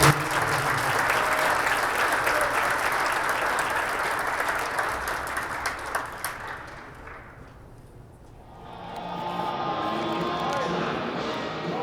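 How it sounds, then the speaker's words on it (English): Sustained crowd applause fills a high school gymnasium on wrestling senior night, loud and dense, then fades to near quiet before an announcer's voice comes in over the room. "one last round of applause for the class of 2024"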